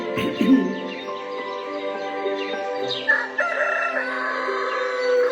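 A rooster crows in the morning, a long wavering call heard amid other bird chirps and background sounds, fairly loud and steady throughout.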